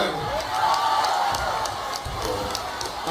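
Audience at an Indonesian political comedy event claps and cheers, a steady crowd roar with whoops rising and falling throughout.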